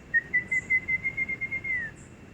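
A man whistles an imitation of a black-hooded antshrike: one steady, high whistled note that rises slightly and runs for about two seconds as a quick series of evenly spaced pulses, heard clearly and alone.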